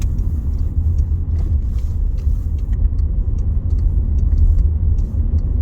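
A car driving along a road through Scotland's Grangemouth oil and gas refinery, a steady low engine and tyre rumble heard from inside the vehicle, with no talk.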